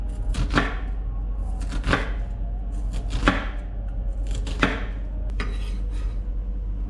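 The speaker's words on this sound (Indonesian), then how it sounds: "Untuk bawang bombay kita iris tipis." A knife slices an onion thinly on a cutting board, producing a series of crisp, evenly spaced chops close up over a low steady hum.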